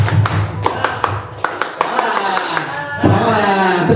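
A school group does a rhythmic spirit clap, sharp claps in a patterned beat of several quick bursts, with voices chanting between and over them.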